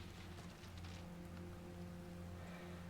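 Rain striking shallow water barely an inch or two deep, a soft, steady patter of drops with a faint low rumble underneath, quiet and continuous.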